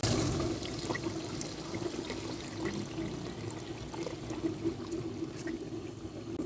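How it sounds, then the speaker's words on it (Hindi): About a litre of water pouring steadily into a cooking pot of lightly roasted chana dal and bitter gourd, a continuous close splashing gush at moderate volume. "1 लीटर हमने इसमें पानी डाला है,"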